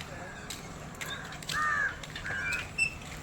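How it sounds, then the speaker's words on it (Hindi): Crows caw repeatedly in a scattered group on a morning walk outdoors, the calls moderately near over steady background noise, with a few louder caws mid-clip. "इतना सारा कौवा है।"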